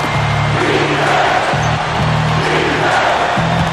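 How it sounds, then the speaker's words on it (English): Simulated arena crowd in NBA 2K13 roars steadily throughout a Bucks versus Knicks basketball game, a loud continuous wall of cheering with sustained droning horn-like tones underneath and no voices standing out. "That's how you get the crowd on its feet."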